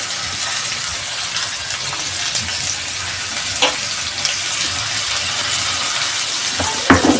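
Ginger, garlic and chillies sizzle in sesame oil in a pan, with a steady hiss and occasional sharp stirring clinks. No one speaks.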